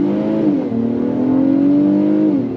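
2026 Acura MDX A-Spec V6 with ten-speed automatic accelerating hard from a stop, a steady close engine drone rising in pitch, dipping at an upshift and climbing again, with no talk.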